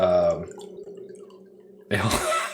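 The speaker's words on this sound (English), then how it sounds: "I'm hearing Tim pour his wine." Wine poured into a glass during a podcast on electronics and neurons: a short vocal sound and a low steady hum give way to a sudden, loud, splashy pouring burst near the end.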